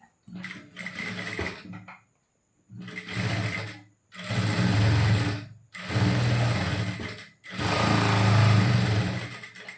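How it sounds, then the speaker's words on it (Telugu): A sewing machine stitches blouse fabric in five separate bursts of fast, steady whirring and needle chatter, close and loud, with brief silent gaps between runs. "ఇప్పుడు దీన్ని ఇలా తిప్పి కరెక్ట్గా ఎక్కడ ముడతలు రాకుండా ఇలా చూసుకొని కుట్టేసుకోండి"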